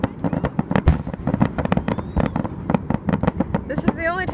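Independence Day fireworks burst in a dense run of sharp bangs and crackles over nearby shouting voices, with a whistling rocket rising near the end.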